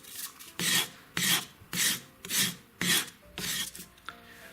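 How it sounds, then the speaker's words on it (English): Repeated rasping strokes of a sanding stick cleaning up a small soldered wire joint on a ring, about seven even back-and-forth passes, close up with no talking. "give the joint a bit of a clean up with a sanding stick."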